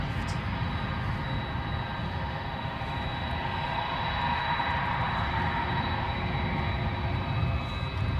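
A small aircraft climbs out after takeoff from Edinburgh airport, its steady engine drone heard from a distance as a continuous, even rumble with a faint high whine, and no talk over it.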